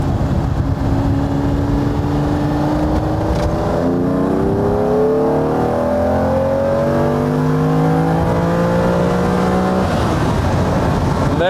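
A Ferrari 365 GTB/4 Daytona engine accelerating hard on a straight, its smooth, loud roar rising steadily in pitch through successive gears. Heavy wind and road rumble run underneath, with no talking.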